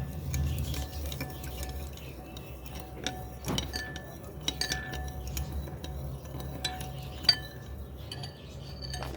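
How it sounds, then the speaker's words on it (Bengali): Milk and sugar stirred in a pot for malpua batter: steady scraping swirls with light clinks of a spoon against the metal, soft and close, with no voices. "আচ্ছা, এবার একটু নাড়িয়ে নেব।"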